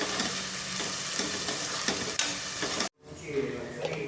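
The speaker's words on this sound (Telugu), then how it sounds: "ఇలా గడ్డితో మిక్స్ చేసుకుంటూ ఫ్రై చేసుకోవాలి" Mutton pieces coated in masala fry in a pan and are stirred with a spatula. A close, steady sizzle with scraping breaks off briefly, then resumes more quietly.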